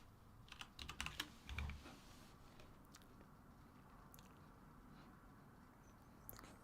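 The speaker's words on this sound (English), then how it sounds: "while I'm typing" Bursts of typing on a computer keyboard, quick clusters of clicking keystrokes near the start, then sparse, faint key taps over a low background hum.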